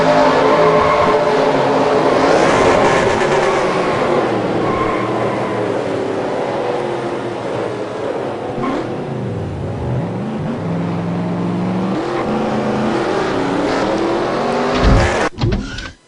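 Chevrolet Impala SS race car running flat out at Daytona International Speedway, heard onboard from the rear: a loud, continuous engine roar with shifting tones and wind rush, no voices.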